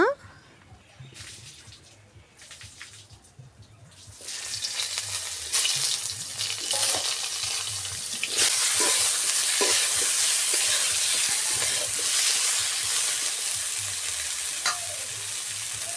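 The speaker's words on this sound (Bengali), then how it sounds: "এবার মাছ ভাজা তেলে আরেকটু তেল দিয়ে দেব বেগুনগুলো ভাজার জন্য" Eggplant slices added to hot oil left from frying fish, a quiet start giving way to a loud, close, continuous sizzle and spatter with stirring scrapes, rising further midway.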